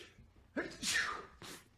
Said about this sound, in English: Had a sneeze.